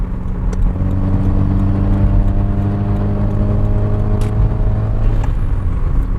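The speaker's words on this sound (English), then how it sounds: "I see a BMW M2 on my left, coming up on my left." A BMW M2 engine drones steadily and close, holding a loud whir as the car goes by on the left.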